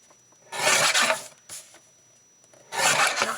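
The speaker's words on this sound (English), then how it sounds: "we'll just trim this slightly. Just to clean up those edges." Rasping, rubbing strokes as the edges of a handmade paper card are trimmed, with two long scraping passes separated by a short stroke and quiet gaps, close and clear with no talking.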